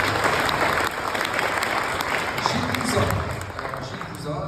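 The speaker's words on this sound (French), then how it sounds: "On peut applaudir Patrick" An audience at a memorial ceremony applauds, producing dense, close clapping that eases slightly after the first second and then continues, with some voices mixed in.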